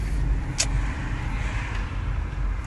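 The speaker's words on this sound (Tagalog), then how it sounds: "Yeah, it's really traffic today guys." Steady road traffic of passing cars on a busy day near a shopping mall, a continuous broadband rumble and hiss with no talk.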